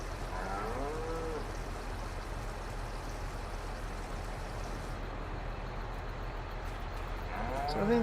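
Cattle mooing inside Farming Simulator 22, several drawn-out game-animal calls at moderate distance over a steady low ambient hum, with one near the start and another rising at the very end.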